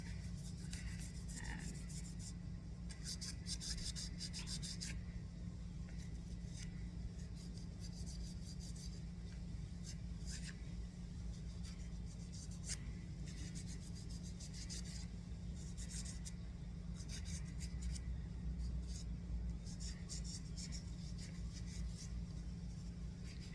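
Wet sandpaper rubs over a small carved soapstone star in a steady, continuous scrubbing rasp of quick repeated strokes, fairly faint and close, with no talking.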